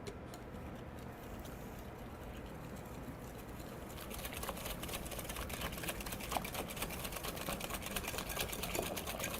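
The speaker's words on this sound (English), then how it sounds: "Let's go ahead and whisk that up together." A whisk beats eggs, yogurt and sugar together in a bowl, a steady fast rattling that grows busier and louder partway through, continuous with no talking.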